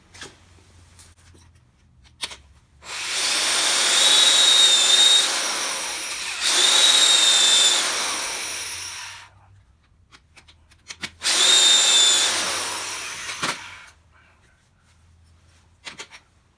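Hand drill boring into a wooden tool handle, three separate bursts of loud grinding and chattering, each lasting a few seconds, with quiet pauses and small knocks and handling sounds between them.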